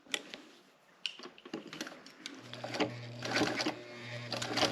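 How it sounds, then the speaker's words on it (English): A sewing machine runs in short bursts while sewing a side seam on a bag, then settles into a steady mechanical hum and rattle as it stitches, with small clicks and handling noises around it. "let's go back to the sewing machine"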